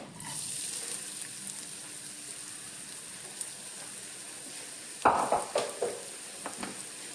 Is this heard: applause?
no